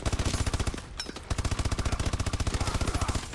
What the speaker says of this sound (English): I had a very big machine gun here.